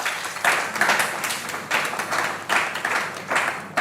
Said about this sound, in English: I think it's worth a round of applause